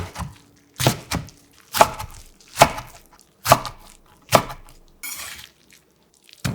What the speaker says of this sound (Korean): 물기를 최대한 꾹 짜서 질척이지 않게 해주고 길게 늘려준 후 4cm 길이 정도로 잘라줍니다